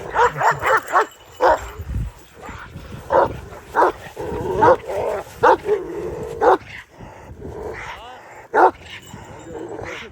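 Kangal dogs of a single bloodline bark in repeated loud bursts, some close and some overlapping, with short whimpers between, while people talk nearby.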